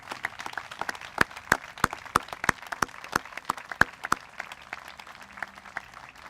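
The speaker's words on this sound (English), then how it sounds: "give a round of applause to Andrew and to all of those veterans out here who have served our country" At a 2017 Armed Forces Day ceremony, a small outdoor audience gives scattered applause for veterans, sparse distinct claps from a few people, fairly faint and irregular, trailing off toward the end.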